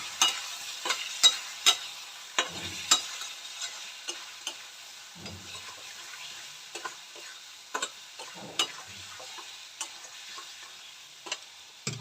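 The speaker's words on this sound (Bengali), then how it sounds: "এবার এটাকে ভালো করে কষাবো।" Catla fish head masala being sautéed in a pan, with soft sizzling under repeated scraping and stirring strokes that come in quick irregular bursts throughout, fairly close and moderately quiet, with no voices.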